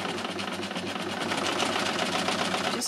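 A Lucie overlocker by Success runs a hem stitch, a close, steady rapid mechanical chatter with an even whirring rhythm throughout.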